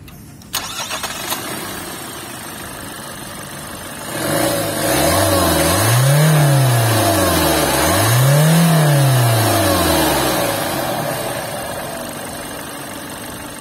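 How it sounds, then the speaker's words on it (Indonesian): Kia Seltos diesel cranks with a click and brief whir, then catches and fires up. It swells in two rising-and-falling revs before settling into a smooth, steady idle, near and alone. "kayak apa sih suara mesin dieselnya?"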